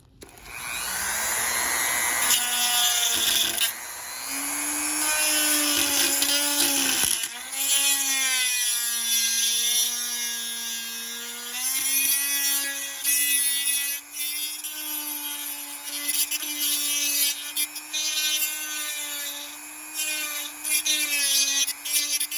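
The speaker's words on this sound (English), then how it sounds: "Practicing with a Dremel on plastic is awesome" A Dremel rotary tool cuts through plastic in a steady high-pitched whine that shifts in pitch as the load changes, loud and close, continuous for about twenty seconds while work goes on stripping a VW Bug.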